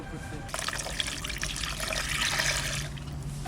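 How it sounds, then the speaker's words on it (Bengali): Water being poured onto skimmed milk cream while making homemade ghee, a steady splashing trickle that starts abruptly and runs close and fairly loud to the end. "এবার জল ঢেলে দেবো।"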